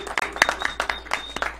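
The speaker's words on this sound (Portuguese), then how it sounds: "Não, esse merece palmas." Applause breaks out in a parliamentary plenary session, a burst of scattered, uneven claps from a modest crowd, some hands louder and closer than others, with faint voices mixed in.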